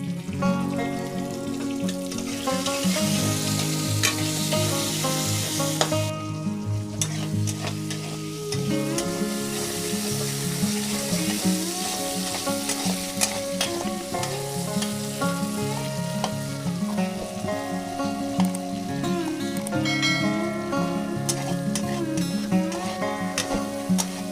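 Tomato sizzles and fries steadily in a pan with dried mango and salt for a fish sour curry, a continuous crackle running beneath loud background music throughout.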